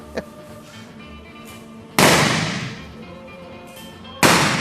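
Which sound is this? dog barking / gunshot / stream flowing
gunshot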